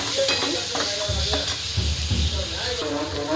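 Tomato frying in oil in a pan, a close crackling sizzle with stirring scrapes, heard under a voice talking.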